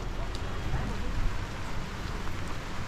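Steady heavy rain across the valley at Pahalgam in Kashmir, a dense continuous hiss with low rumble and no breaks, filling the scene evenly.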